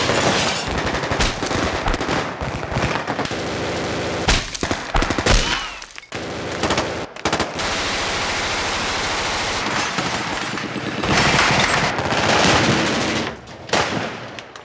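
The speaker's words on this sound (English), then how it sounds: "in the gun battle between the FBI and Dillinger's men in northern Wisconsin" Sustained machine gun fire from a 1930s gun battle between FBI agents and gangsters in the woods of northern Wisconsin, loud, dense bursts nearly unbroken across the whole stretch with only brief gaps.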